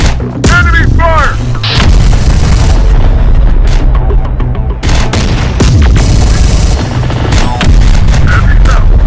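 Enemy gunfire in the Terminator Dark Fate Defiance video game: loud, dense bursts of shots and booming blasts that run throughout, with brief shouted voices in the middle of the fighting.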